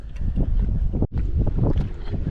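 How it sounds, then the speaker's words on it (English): Strong gusting wind buffets the microphone while bass fishing from a bank, in loud, low rumbling bursts, with a brief lull near the middle before the roar resumes. "Windy, windy."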